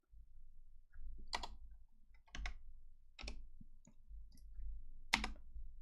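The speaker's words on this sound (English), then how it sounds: "Just gonna type this here." Sparse, faint clicks of keys being pressed on a computer keyboard, about four short separated bursts at an unhurried pace in a quiet room.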